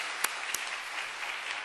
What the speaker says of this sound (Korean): 뜨거운 박수 부탁합니다.